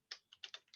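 Quick keystrokes on a computer keyboard: about five crisp, close taps in an uneven rhythm with no talking.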